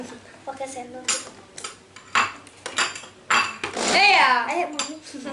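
A metal spoon clinks and scrapes against dishes while making fruit popsicles, in a run of sharp close taps with a brief ringing chime, as voices talk over it.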